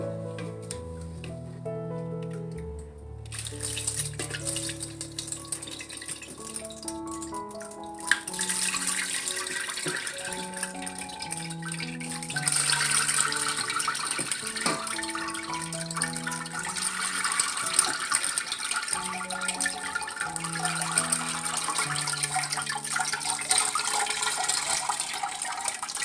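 Water drains from soaked rice through a strainer being shaken over a wide basin while making sikhye, a continuous splashing, trickling rush under a melodic background tune, growing fuller and hissier partway through.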